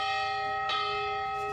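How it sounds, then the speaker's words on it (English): A church bell rings in the tower of a Lutheran church in Walnut Grove, with a sustained, resonant tone and one fresh strike partway through, heard clearly and alone. "where Pa's bell still rings in the tower"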